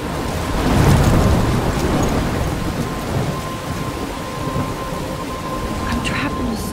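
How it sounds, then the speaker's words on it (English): A thunderstorm in the video game Life Is Strange: heavy rain hisses steadily as a deep rolling thunder rumble swells early and fades, the downpour continuing loud and close. "I'm trapped in a storm?"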